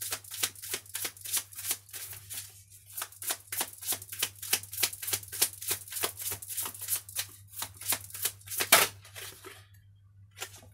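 Tarot cards are shuffled by hand in a long run of quick, crisp riffling bursts, close and fairly quiet over a low steady hum.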